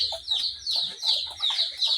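Hens on a small home farm cluck in a quick, bright run of repeated calls close by, a steady rhythmic series of short clucks with no talking over them.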